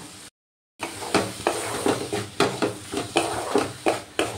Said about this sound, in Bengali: এইভাবে সবকিছু ভাজা ভাজা করে নেব